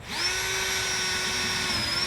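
A power drill bores into the bottom of a dry well basin being installed to stop basement flooding, running as a steady, loud whine that holds its pitch throughout with no pauses.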